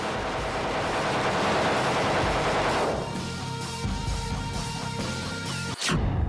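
Automatic fire from an AK-203 assault rifle, a dense, loud continuous burst of rapid shots over several seconds, cut by a sharp crack near the end.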